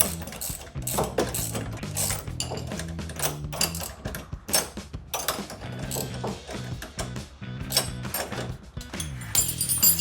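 A ratchet tightening a 10mm bolt with washers and a lock nut on a Jeep Gladiator JT drop side step bar, a rapid continuous clicking that runs steadily throughout, close and loud, with no talking.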